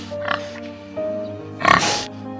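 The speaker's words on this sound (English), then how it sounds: "pig" A pig gives a couple of short oinks, one brief near the start and a louder, harsher one later, close and clear over soft background music.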